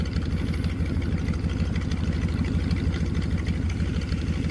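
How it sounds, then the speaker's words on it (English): Aircraft engines in the video game Aces of Thunder drone steadily throughout, a loud, low, pulsing rumble with no break and no voices. "The engines sound great"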